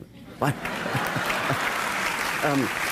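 Steady applause from a lecture audience, dense and continuous throughout, with a few louder voices and a brief laugh or call rising over the clapping.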